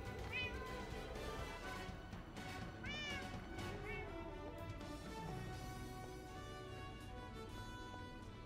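Several Minecraft cats meow in turn, short rising and falling cries repeating at a close, steady pace over a soft game background.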